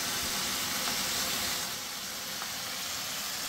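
Goat curry masala frying in oil over low heat, giving a steady, even sizzle and hiss that runs the whole time with no talking.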